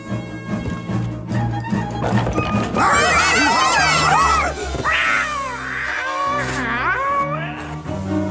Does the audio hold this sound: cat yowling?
yes